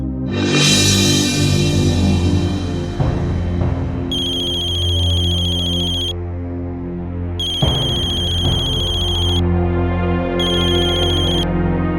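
A mobile phone ringtone chimes loudly in a tense indoor drama scene, a sustained melodic ring repeating in three bursts over a steady music bed, with no talking.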